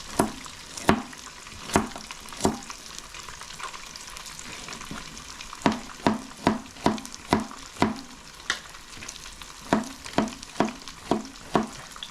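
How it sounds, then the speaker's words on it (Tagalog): Steady sizzling of fish frying in a pan, punctuated by repeated sharp clacks of a utensil stirring, close and fairly loud with no talking. "habang nagpiprito po tayo"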